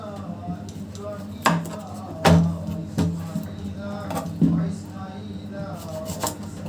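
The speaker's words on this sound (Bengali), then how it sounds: "তবে পেঁয়াজগুলো এখন কেটে নিব।" Onions being chopped with a knife on a board for a beef curry and pulao meal, a handful of distinct knocks spaced about a second apart over a steady background hum.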